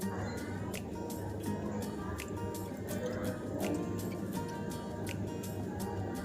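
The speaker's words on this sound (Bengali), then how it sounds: "আমার খিচুড়িটাকে আমি আবারও উল্টিয়ে দিচ্ছি" A large pot of bhuna khichuri with beef is gently turned over, producing soft wet squelches and dripping ticks at an uneven pace under a low background hum.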